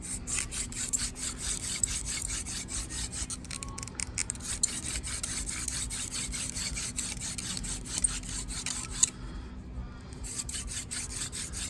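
A wooden hand drill is spun rapidly against a wooden fireboard to make fire, producing steady rhythmic scraping strokes that repeat closely over several seconds, faint and close with no talking.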